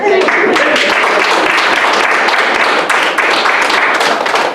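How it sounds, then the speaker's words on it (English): An audience claps at an Irish culture and heritage orientation event for migrants, a dense, steady applause that carries evenly from start to finish with scattered sharper claps. "That's just clapping for you."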